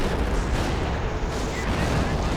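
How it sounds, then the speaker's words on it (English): A howitzer artillery barrage in the Company of Heroes video game, a dense, continuous rumble of heavy explosions at close range, loud and booming throughout, with a commentator talking over it. "Howitzer barrage coming in at super close range to try to do something to these stormtroopers"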